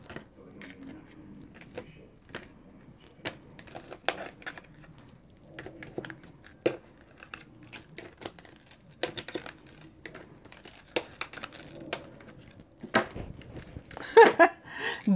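A deck of tarot cards being cut and handled, with soft, sparse snaps and rustles of cards, quiet and close, building to a brief shuffle-like flurry near the end.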